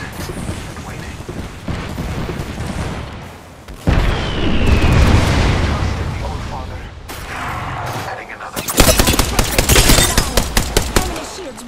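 Gunfire and a grenade explosion in the battle royale video game Apex Legends: a heavy blast near the four-second mark gives way to sustained rumbling combat, then rapid, loud bursts of automatic fire, with game voices faintly present.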